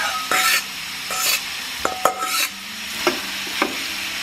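Sausage and vegetables stirred in a hot pan, with a steady sizzle broken by several scraping stirs and utensil knocks at close range.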